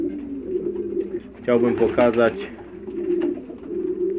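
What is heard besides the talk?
pigeons cooing in a pigeon loft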